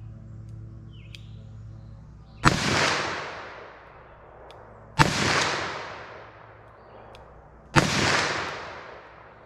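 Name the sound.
357 Magnum revolver shots, double action, 158 gr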